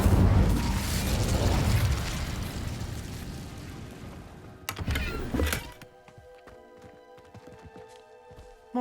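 A fiery Incendio spell cast in Hogwarts Legacy: a loud, dense roaring whoosh that fills the first half, then a sharp burst near the end before it cuts to a quieter background hum.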